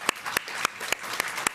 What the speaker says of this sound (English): I think we give a round of applause to the people who've served our country